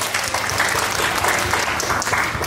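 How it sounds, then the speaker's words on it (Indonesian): An audience at a creative economy talk applauding, a loud, steady burst of clapping from a crowd close by that lasts a few seconds. "Boleh tepuk tangan."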